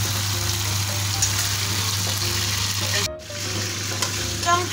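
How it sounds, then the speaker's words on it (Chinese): Shredded eel stir-fried in a hot wok, a loud continuous sizzle and crackle of oil with stirring scrapes, close up, briefly dropping out near the end before resuming. "翻炒一分钟的样子就可以起锅"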